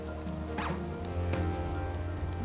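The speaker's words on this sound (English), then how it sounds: "it's actually raining outside, which I did not expect" Rain falling in Pokemon Scarlet, a steady soft patter with a couple of brief sweeping game sounds over it, and no talking.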